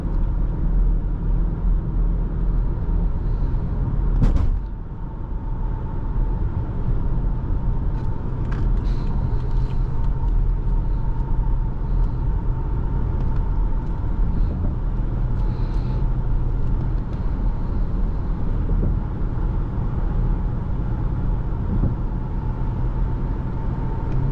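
A 2017 BMW X5 xDrive50i's V8 engine accelerates from inside the cabin, a steady low rumble with a faint whine and a brief thump early on, close and without talk.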